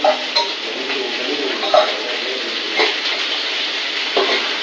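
Onions sautéing in oil in a pan for onion paruppu usili, a continuous loud sizzle broken by several sharp scrapes and knocks of a spoon against the pan.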